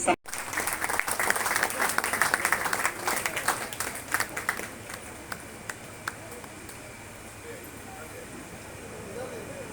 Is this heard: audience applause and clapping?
yes